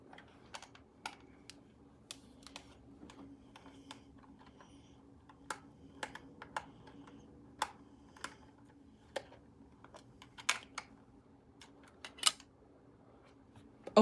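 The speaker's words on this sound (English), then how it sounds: "Let's screw off this." Small screws being unscrewed from the battery cover of a drone controller, a quiet close series of irregular sharp clicks and ticks over a faint hum, with no speech.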